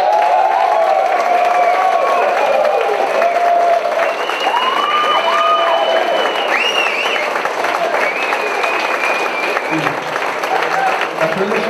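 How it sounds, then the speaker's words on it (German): An audience at a German radio-drama event applauds loudly and steadily, with cheers and whistles rising above the dense clapping throughout. "einen herzlichen Applaus"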